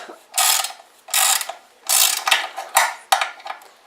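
A hand ratchet tightens skid plate bolts on a Husqvarna FC 250 dirt bike, giving five or six loud, close bursts of rapid clicking separated by short pauses.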